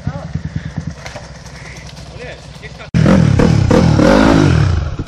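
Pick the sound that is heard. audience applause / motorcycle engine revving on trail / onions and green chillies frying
motorcycle engine revving on trail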